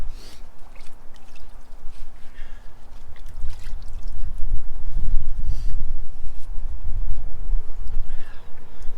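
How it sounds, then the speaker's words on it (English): A deep scratch on the hood of a 2019 Subaru Crosstrek is wet sanded by hand with 1500-grit paper: a steady, close, watery rubbing and swishing that builds a little louder toward the end, with no talk. "So I'm just gonna go real light with the wet sandpaper"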